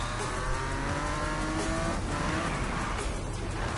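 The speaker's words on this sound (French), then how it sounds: "comment il freine sévère celui-là" Sustained tire squeal from a car braking hard in the Need for Speed racing game, a loud continuous screech over steady engine noise that lasts the whole stretch without voices.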